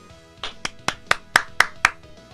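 Six or seven distinct hand claps in an even, slightly quickening rhythm, close and moderately loud, a small round of applause with no one talking.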